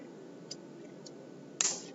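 A single sharp computer mouse click in a quiet room during billing software work, followed by a couple of faint ticks; soft, close and otherwise near-silent.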